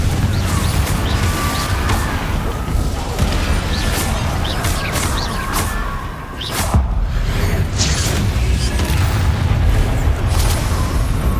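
Rapid, repeated blasting-spell explosions from the Hogwarts Legacy video game, loud booms and crashes packed densely together with almost no pause, forming a continuous barrage of detonations and debris throughout.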